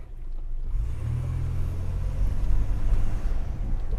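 A car's engine rumbles steadily close by while its automatic transmission, whose reverse had stopped working, is shifted toward reverse; the low, even drone continues without speech.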